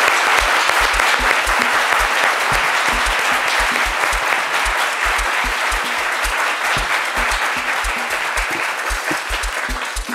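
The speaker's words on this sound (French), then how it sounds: "On l'accueille avec des applaudissements, s'il vous plaît" A studio audience on a midday TV show applauds steadily and loudly to welcome a guest, with rhythmic low thumps, likely music, pulsing underneath the clapping.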